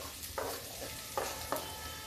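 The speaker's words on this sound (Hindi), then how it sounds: "अब डालते हैं लहसुन, हरा मिर्चा।" Garlic and green chili frying in hot oil while cooking a tinda (apple gourd) sabzi, a soft steady sizzle broken by a few short stirring scrapes, close and fairly quiet.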